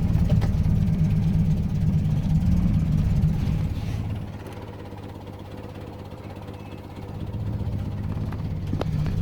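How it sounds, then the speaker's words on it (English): 1980 Land Rover Series 3 109 engine idling very slowly, a low, heavy rumble that is loud at first, then drops off and settles into a quieter, uneven idle before swelling slightly again. "it's idling very, very slowly"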